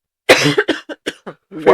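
A person gives a loud, close burst of coughing, one harsh cough followed by several shorter hacking coughs and a final rasping one.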